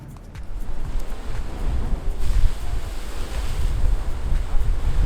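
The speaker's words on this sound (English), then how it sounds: "the waves keep crashing in and there's supposed to be a big splash" Ocean waves crashing on the beach at Nusa Dua, Bali, a loud, close surging roar of surf mixed with strong wind buffeting the microphone, with no voices.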